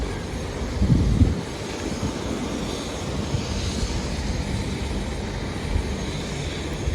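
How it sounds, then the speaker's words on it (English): A helicopter flies over a mountain trail between Lukla and Kharikhola in Nepal's Everest region, a steady, broad droning rumble that holds for the whole stretch with no voices. "I've been over here with a helicopter flying"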